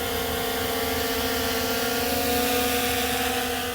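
Steady, continuous high-pitched propeller whine and buzz from a DJI Mini 3 Pro drone flying with propeller guards, close and constant with no pauses.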